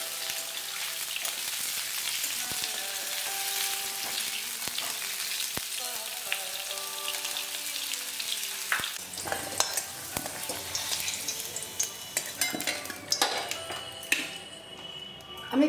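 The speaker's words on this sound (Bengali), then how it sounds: "আলুগুলোকে লাল লাল করে ভেজে নেব।" Potatoes fry in hot oil in a pan until reddish, giving a steady, close sizzle with scattered light clicks and scrapes of stirring throughout.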